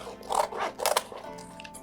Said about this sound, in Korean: 다시마를 잘라줍니다. 자르는 소리가 참 좋네요.